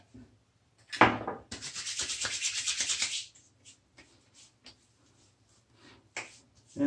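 Hands rub sandalwood aftershave balm onto a freshly shaved face, a close, soft scrubbing that lasts about two seconds, followed by a few faint taps and brushes.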